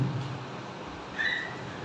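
A voice briefly imitates a pressure cooker whistle, a short, faint, thin tonal hiss rising near the end of a quiet moment, with no other talk.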